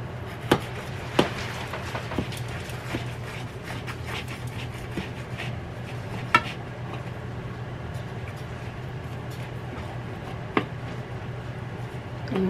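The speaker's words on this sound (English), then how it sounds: "I'm gonna try to cut all the way through." A knife slices through a crispy, browned low-carb lavash bread omelette from a double omelette maker, giving sparse, light cutting clicks and taps over a steady low hum.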